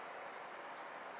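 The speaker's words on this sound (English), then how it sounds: "Sorry about the background noise, that's the furnace running." A household furnace runs in a winter workshop in Oregon, a faint, even broadband rush of air noise with no variation, heard alone in the background.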